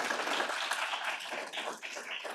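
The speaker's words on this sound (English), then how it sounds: "So please give them a round of applause." Applause from an audience at a closing panel of a housing and federal advocacy symposium, faint and steady across the short stretch with no clear pauses.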